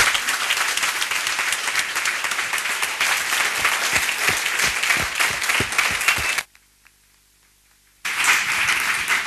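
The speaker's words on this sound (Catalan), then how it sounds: "el prec d'un fort aplaudiment en reconeixement als ponents" A lecture audience claps for the speakers at a justice and society conference, loud sustained applause with individual sharp claps, cut by a sudden silent gap before the clapping resumes.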